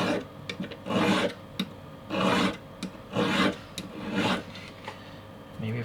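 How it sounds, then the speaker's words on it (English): A mini brass keychain knife has its flat edge sharpened: four close, rhythmic rasping strokes of filing, each about half a second long, with short pauses between. "at least it's easy to sharpen, it seems, because you have such a flat edge"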